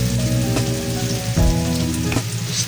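Sautéing in a pan for ginataang tambakol with yellow coconut-milk sauce, the steady sizzle of frying running close and continuous, with a couple of stirring scrapes partway through.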